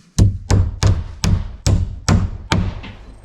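Hammer driving 2.5-inch galvanized nails into an OSB garage wall, seven sharp, evenly spaced blows ringing out close and loud, each with a short resonant decay.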